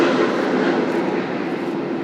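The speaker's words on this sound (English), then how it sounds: "There's another jet going by." A jet aircraft flies over downtown Toronto during an air show, a steady loud broadband roar that holds for the whole stretch and tapers only slightly, with no talking.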